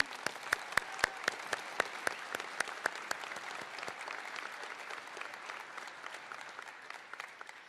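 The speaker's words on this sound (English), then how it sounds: "Big round of applause for all of them." Sustained applause from a school graduation ceremony audience honouring student council representatives, steady dense clapping throughout with a few sharper close claps early on, no speech over it.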